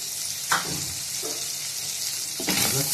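Mutton cooking in ghee inside an earthen pot gives a steady, close sizzle with a bright hiss, and a couple of short scrape or stir sounds cut through it.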